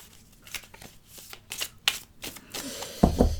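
Tarot cards being shuffled by hand, a run of crisp riffling bursts up close with a few brief pauses, ending in a couple of sharper taps as the deck settles.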